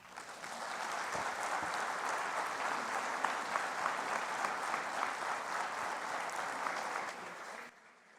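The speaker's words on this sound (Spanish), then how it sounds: "Les pido por favor, le brindemos un fuerte aplauso." Sustained audience applause closing a lecture on jurisprudence at a judicial event, a dense, even roar of many hands lasting several seconds before tapering off abruptly near the end.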